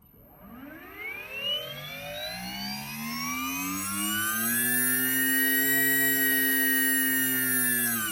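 Sur Ron electric dirt bike motor with a BAC4000 controller whirring under throttle, a rising whine that climbs steadily in pitch and loudness over several seconds, then holds high and steady, close and alone.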